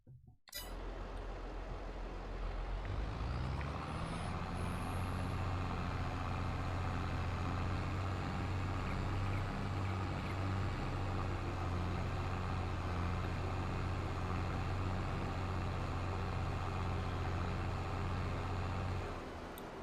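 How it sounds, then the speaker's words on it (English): A tractor in Farming Simulator 22 starts and drives on the France map, its diesel engine rising from a low start into a steady droning rumble that holds for the rest of the clip with no talk. "let's get the tractor a little bit further away"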